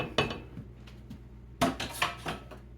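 Metal kitchen utensils clink and rattle against a bowl and pan as one is swapped out for a whisk while making ranch dressing: a few sharp, close knocks and scrapes with short quiet gaps between them.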